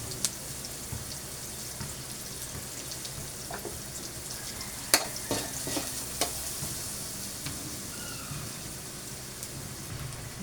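Onions and black pepper frying in a pan, a continuous close sizzle with scattered spatters and a few sharp clinks of stirring.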